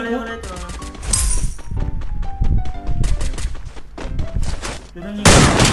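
Rapid gunfire in the mobile battle game Free Fire, with loud bursts of automatic shots, a sharp shattering crash near the end and excited voices talking over the action.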